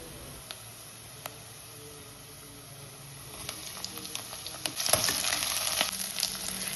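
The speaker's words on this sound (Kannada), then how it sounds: "ಕುಕ್ಕರ್ ಪ್ಯಾನ್ಗೆ 3 ಸ್ಪೂನ್ ಎಣ್ಣೆ ಹಾಕ್ಕೊಂಡು 3 ಹಸಿಮೆಣಸಿನ್ಕಾಯಿ, 1 ಈರುಳ್ಳಿ, 1 ಕ್ಯಾಪ್ಸಿಕಮ್ ಎಲ್ಲನೂ ನಾನು ದಪ್ಪಕ್ಕೆ ಹೆಚ್ಕೊಂಡಿದ್ದೀನಿ. ಇದನ್ನು 5 ನಿಮಿಷ ನೀಟಾಗಿ ಫ್ರೈ ಮಾಡಿ" Green chillies, onion and capsicum cut thick fry in oil in a cooker pan, giving a steady soft sizzle with scattered pops and stirring clatter that grow busier and louder toward the end.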